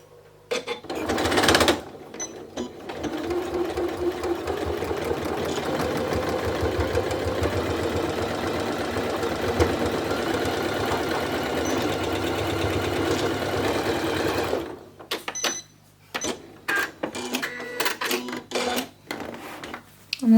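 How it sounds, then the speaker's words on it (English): A sewing machine runs a long straight stitch across gathered fabric for a fabric pumpkin, a steady close whirring hum for about thirteen seconds, followed by short stops and bursts of stitching. "we're going to take this to the sewing machine, lie it flat, and then we're going to do a straight stitch all the way across"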